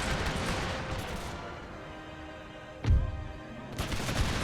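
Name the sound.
musket volley gunfire in video game Empire Total War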